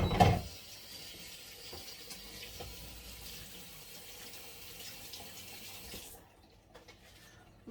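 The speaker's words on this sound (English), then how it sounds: "So I'm just going to wash my hands and I'll be back." Steady running tap water splashes into a sink as hands are washed, a constant close rush that stops abruptly near the end, leaving near silence.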